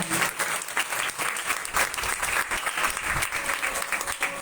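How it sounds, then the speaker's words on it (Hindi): Audience at a Bhagwat Katha religious gathering claps in congratulation for a family, a dense, steady burst of many hands close and loud throughout, with no speech over it. "सर्वप्रथम महेश परिवार को ताली बजाकर सभी लोग बधाई"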